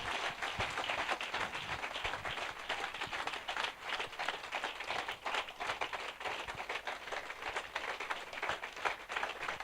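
Sustained applause from a church congregation, many hands clapping steadily and densely for the whole stretch with no pause, at a moderate distance.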